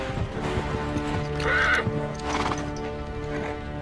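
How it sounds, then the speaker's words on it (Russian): Horses whinnying and neighing with clip-clopping hooves in the video game Uncharted 3, loud and close, a sharp neigh rising mid-clip over continuous hoof and ambient noise. "Все, лошади больше не хотят идти"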